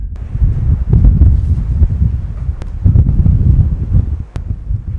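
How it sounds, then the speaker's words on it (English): Strong outdoor wind buffets the microphone in heavy, low rumbling gusts that surge and ease continuously, with a couple of faint sharp clicks and no voices. "Gosh, it is getting really windy."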